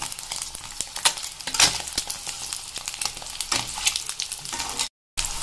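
Eggs frying in a pan for a village-style anda curry, a busy crackling sizzle with spatula scrapes and stirring pops, steady and close, ending with a short gap.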